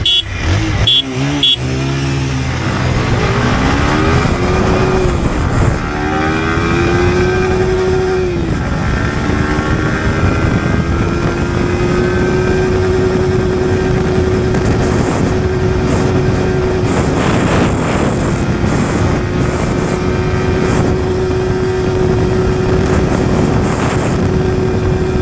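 A Yamaha R15 V4 and a Pulsar 220F BS3 motorcycle drag race, their engines loud and close, revving hard as the pitch climbs through the gears and then settles into a sustained high drone.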